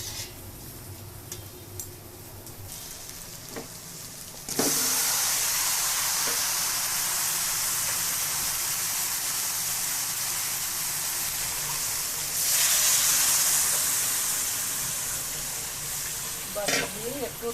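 Water goes into a pan of sizzling chicken, and after quiet stirring it sets off a sudden loud burst of hissing steam that holds steady, swells again later, then gives way to scraping.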